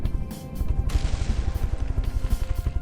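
Gunfire crackles through an air battle in the video game From the Depths: a dense, rapid stream of shots and small blasts, with no letup, heard over a continuous rumble.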